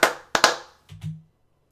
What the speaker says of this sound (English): Now, as you can see, this is my claps.